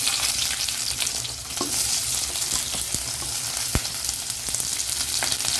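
Onions frying in a pan with mustard seeds, chana dal and urad dal for ragi rava kichadi: a loud, continuous close sizzle with occasional sharp utensil taps and scrapes.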